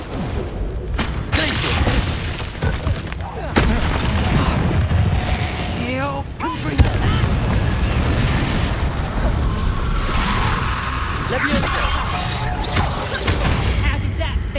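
Confringo fire-spell blasts go off repeatedly in Hogwarts Legacy, with booming explosions over busy mechanical game noise and a voice talking throughout.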